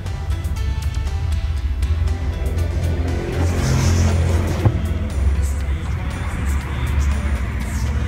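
A Peugeot 307 engine idles with a steady low rumble throughout, close and fairly loud, and a voice talks over part of it.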